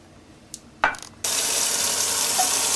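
After a couple of soft clinks of a tin can, tap water suddenly gushes at full strength into an emptied tomato sauce can, a loud steady rush continuing to the end.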